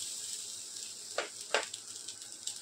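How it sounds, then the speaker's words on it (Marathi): Grated coconut roasting in a pan for Goan crab masala gives off a steady, quiet sizzling hiss, broken by a few soft stirring scrapes. "खोबरंही आपण थोडं भाजून घेऊ।"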